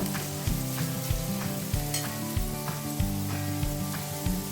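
Boiled kidney beans (rajma) sauté with spices in a pan, giving a steady, close sizzle broken by regular scraping stirs, with no talking.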